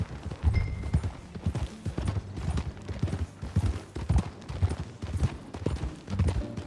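Rhythmic clip-clop of horse hooves trotting at a steady pace in the video game Red Dead Redemption 2, fairly close and continuous, with no talking.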